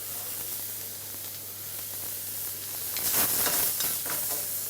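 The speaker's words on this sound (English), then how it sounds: "So the langoustines are just searing off nicely." Fresh langoustines searing in a hot pan, a close sizzle and hiss that swells into louder bursts of spitting and stirring toward the end, over a faint steady hum, with no talking.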